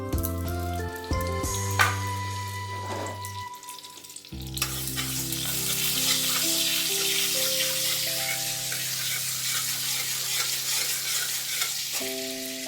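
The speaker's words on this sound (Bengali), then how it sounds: "একটু মৌরি দিলাম বাটারের মধ্যে। মৌরিটা খুব ভালো যাবে বাটারে।" Fennel seeds hit hot butter in a pan, bursting into a sudden, steady sizzle and crackle a few seconds in that continues evenly to the end after a quieter opening.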